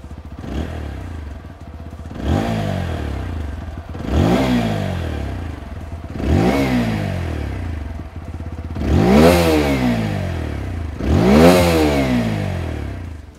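A 2021 TVS Apache RTR 160 4V BS6 motorcycle engine revs hard five or six times in a row, each blip rising to a loud snarling peak and falling back, with a rough idle between.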